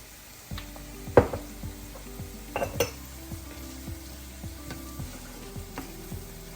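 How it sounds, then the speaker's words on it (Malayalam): Onions sauté with salt in a pan for a Kerala clam meat fry, with scattered spatula scrapes and metallic clinks over a soft, steady sizzle. A few sharper knocks stand out early on. "സവാളയൊക്കെ നന്നായിട്ട് വഴന്ന് വന്നിട്ടുണ്ട്."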